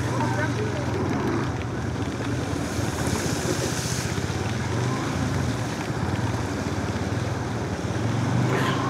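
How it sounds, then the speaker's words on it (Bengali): Traffic moving along a broken, waterlogged road during a rainy ride, with steady broadband rumble and wash of wheels through water and passing engines, continuous and fairly loud throughout, with voices present. "এই রাস্তা দিয়ে কিন্তু প্রচুর গাড়ি চলে, দেখেন এই যে গাড়ি চলতেছে"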